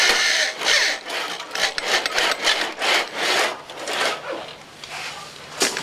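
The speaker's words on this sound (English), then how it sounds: "since my battery-powered drill is dead, I'm going to go ahead and use an electric drill" A corded electric drill drives a screw slowly down into wood for a tool caddy. It makes a close, rhythmic grinding and rubbing sound that rises and falls in short pulses, with no talk.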